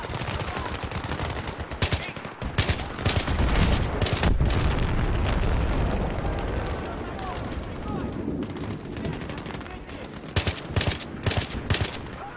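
Rifle fire in the Battlefield 3 campaign mission Rock And A Hard Place, loud and close, with rapid automatic bursts and repeated sharp shots that run almost continuously, thickening into a heavy roar midway before breaking back into separate cracks.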